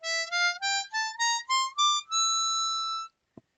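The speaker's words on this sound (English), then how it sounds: "that makes this a Locrian diatonic harmonica" An F harmonica in sixth position climbs a Locrian diatonic scale in seven brief bright reed notes and ends on one sustained tone, close and unaccompanied, followed by a tiny click.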